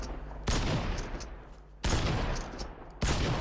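Gunfire in the Fortnite video game, three loud, abrupt bursts of shots spaced over a few seconds, each decaying quickly into a lingering rumble.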